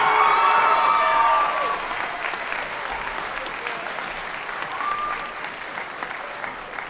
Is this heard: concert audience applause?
yes